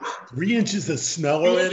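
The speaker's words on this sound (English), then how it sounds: "That's my dog." A pet dog barks several times in quick succession close by, with the sharp, loud yaps overlapping a person talking indoors.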